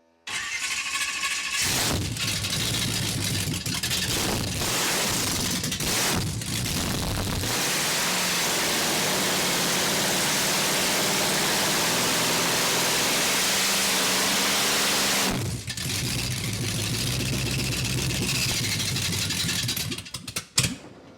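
Chevy V8 of about 500 hp swapped into a Honda CRX runs loud and steady for a long stretch, with rough chatter in its idle and a sputter near the end as it runs out of fuel.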